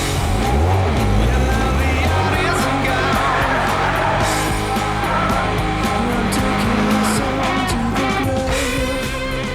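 An MGF Trophy 160 sports car's tuned 160 bhp VVC engine revs hard and loud, its pitch climbing and shifting over busy background noise with some shouting.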